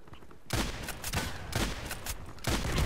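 Shots from an MP-133 shotgun in the game Contract Wars: three or four loud, booming blasts in quick succession, each followed by a short decaying tail, close and dominant.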